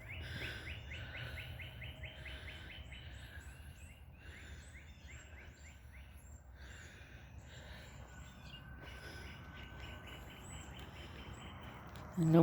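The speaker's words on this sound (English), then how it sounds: "You can hear the birds better." Songbirds chirp and sing outdoors along a walk home from a bus stop, a steady run of repeated bright calls close by over low traffic rumble, with no talking.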